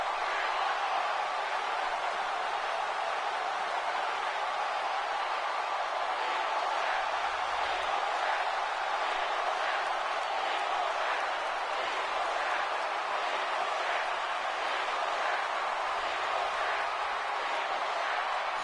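A wrestling arena crowd makes a continuous, loud roar that holds steady throughout, with a faint rhythmic pulse suggesting chanting.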